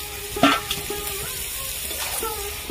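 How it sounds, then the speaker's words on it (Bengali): Fried eggplant dropped into sizzling koi fish gravy, a short splash and crackle followed by steady frying hiss with a few faint clinks of a utensil. "ভেজে রাখা বেগুনগুলো দিয়ে দেবো গ্রেভির মধ্যে"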